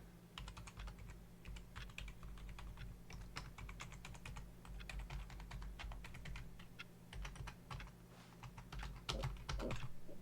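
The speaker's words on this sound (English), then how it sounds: "I'm hitting every button on my keyboard except that one." Rapid typing on a computer keyboard, with dense clicking keystrokes in an uneven rhythm running steadily throughout at moderate loudness over a low hum, getting a little heavier near the end.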